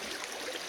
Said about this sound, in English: I'm just noticing as the creek here is flowing a lot more today.